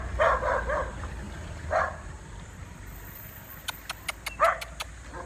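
A pet dog barks in short bursts outdoors near a road where cars pass, with a run of quick yips toward the end and faint traffic rumble beneath.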